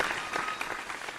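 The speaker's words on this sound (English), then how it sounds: "And a big round of applause to our representatives from ABLE Home and Office." Applause from a television singing competition audience for sponsor representatives, a short, moderately loud wash of many hands clapping.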